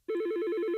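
A telephone rings in a phone system advert: a steady electronic ring tone with a rapid warbling pulse, loud and close, heard alone with no voices.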